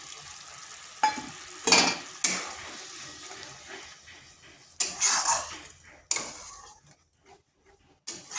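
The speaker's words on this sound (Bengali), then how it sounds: "এইভাবে কিন্তু মাঝে মধ্যে নাড়তে হবে, না হয় নিচে লেগে যাবে" A spoon scrapes and stirs a sizzling masala of cashew paste, green chillies and a splash of water in a pan for prawn malai curry, in several loud bursts of stirring with quieter frying sizzle between.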